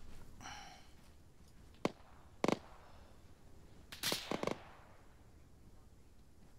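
Several sharp gunshots ring out in an Arma 3 multiplayer firefight: a lone crack, a second report, then a quick burst of three or four shots, all at mid distance over quiet background noise.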